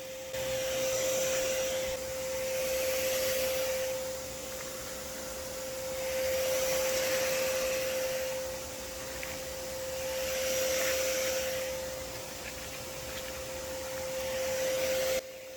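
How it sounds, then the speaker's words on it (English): A vacuum cleaner runs continuously while sucking up European hornets from a tree nest, its motor drone and steady whine swelling and fading as the nozzle moves. "And if they were, I just vacuumed them up."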